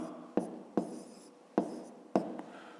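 Pen writing numbers on paper for a fifth-grade math exercise, four short scratchy strokes in an uneven rhythm, close and quiet with no talking.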